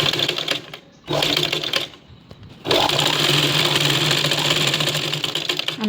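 A sewing machine stitches invisible piping in a tailoring setup, its close, fast mechanical whirr running in two short bursts, pausing, then resuming for a longer continuous run.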